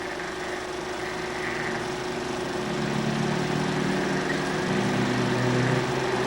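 Sports car engines at a 1955 Iowa City race, a steady, continuous droning roar that swells slightly partway through, heard from a distance before a crowd of fans, with no one talking.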